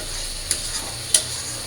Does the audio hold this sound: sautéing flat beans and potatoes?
yes